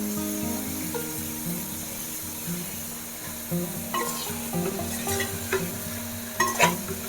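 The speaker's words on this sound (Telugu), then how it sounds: "పన్నీర్ వేసిన తర్వాత కొంచెం నెమ్మదిగా కలుపుకోవాలి" Paneer pieces stirred slowly and gently in a hot pan, a steady soft sizzle with irregular scraping strokes and a few sharper clinks near the end, close and without talk.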